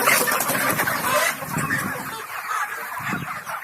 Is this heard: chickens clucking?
yes